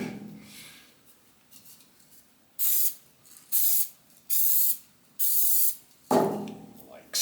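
Five short hissing bursts from a spray paint can coat an antique nail puller being restored, evenly spaced and close, followed by one longer spray, after some faint quiet movement.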